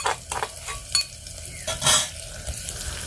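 Crushed garlic goes into a hot pan while khichdi of cracked wheat and moong is being made, giving short bursts of sizzling and a few utensil clinks, close and brief.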